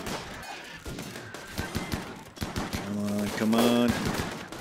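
Turrets in the video game Rimworld open fire in rapid, sharp bursts of gunshots that pile into a continuous barrage, while a voice speaks briefly over the shooting.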